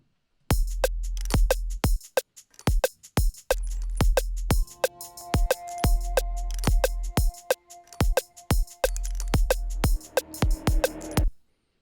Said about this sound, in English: taking a look in Massive about doing a sub-bass patch here for you at home so that you can have a nice thick sub-bass for yourself